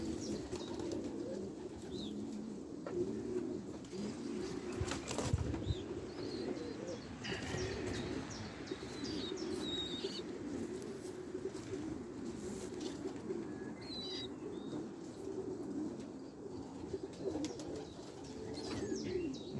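Racing pigeons coo softly and repeatedly, low and steady, with a few faint chirps and rustles in the background.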